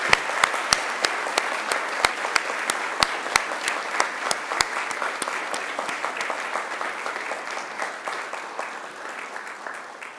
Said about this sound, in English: And give them a mighty round of applause.